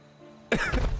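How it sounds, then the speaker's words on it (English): One sudden, harsh cough bursts out close to the microphone after a near-silent moment, loud and brief. "I coughed even saying her name."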